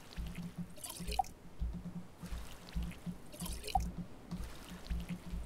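Water poured into a container in the survival game Stranded Deep, giving soft repeated trickling and gurgling pulses that come in a slow rhythm, close and fairly quiet with no voices.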